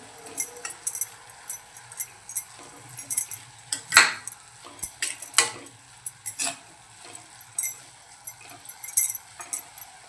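Fenugreek leaf stir-fry, Malvani-style methi bhaji, stirred in a pan, with scattered metallic scrapes and clinks of the spoon against the pan at an irregular pace, close and fairly loud, with no talking.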